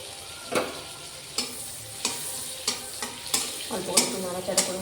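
Chopped capsicum and green chili sizzle in butter while a spoon stirs the pan, giving a steady frying hiss broken by regular scraping strokes about once a second, close and clear with no talking.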